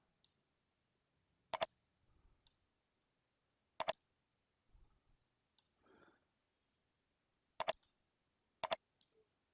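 Computer mouse buttons clicking while working in PowerPoint, sharp isolated clicks, some in quick doubles, spaced irregularly over near silence, close and fairly quiet.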